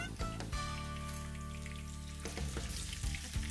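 A tonkatsu pork cutlet being deep-fried a second time in hot oil gives a dense, crackling sizzle throughout, with a few brief clatters from handling nearby.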